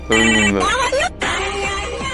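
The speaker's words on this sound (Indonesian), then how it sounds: "suara telepon yang berbunyi, telepon dia sendiri, HP dia gitu" A mobile phone ringtone sounds loudly and close, a bright melodic electronic tune with gliding tones that breaks off briefly and then resumes for the rest of the couple of seconds.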